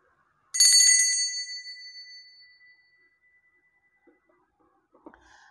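A single small bell struck once for a playing-card fortune reading, ringing bright and clear then decaying slowly into silence, with a few faint handling clicks afterward.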